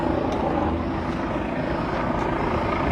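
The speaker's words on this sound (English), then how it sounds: "We got a helicopter up there" A helicopter drones steadily in the distance above a city street, its rotor throbbing as a constant low whir with no voices.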